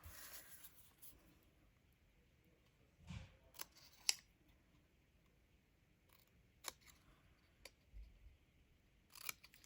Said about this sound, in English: I'm just going to take my scissors and we're just going to cut a little dovetail into here